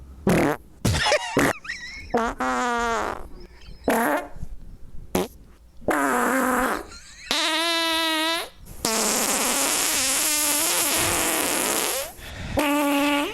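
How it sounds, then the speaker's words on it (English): A string of recorded farts is played back to back, loud and close, with long buzzy blasts and short sputters in quick succession and only brief breaks between them. "He recorded a bunch of his farts and strung them together for us."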